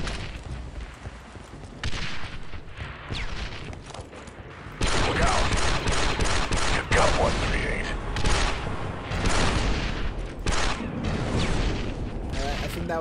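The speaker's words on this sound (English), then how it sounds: "the Separatists have already begun firing" Red and green blaster fire from Separatist and Wookiee forces in the Star Wars Republic Commando battle at the Kachiro bridge, dense overlapping bursts growing louder and busier midway, with voices murmuring underneath.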